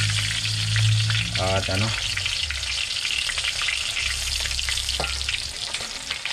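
Food sautés in a hot pan at an outdoor cooking setup, a steady loud sizzle and frying hiss with stirring scrapes, as a voice briefly speaks near the start.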